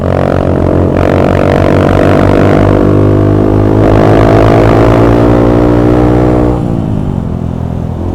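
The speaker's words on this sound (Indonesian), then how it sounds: "Kita lihat ya pakai knalpot apa, RV1." A Honda CRF150L motorcycle with an RV1 exhaust revs loudly and continuously nearby, its throaty exhaust rising and falling in pitch over several seconds.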